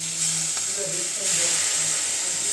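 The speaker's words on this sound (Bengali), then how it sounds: "এভাবে হাতের সাহায্যে জলগুলো ছিটিয়ে দিচ্ছি।" Spices frying in a pan sizzle and hiss loudly as water is sprinkled over them by hand, bursts of crackling spitting over a constant close sizzle.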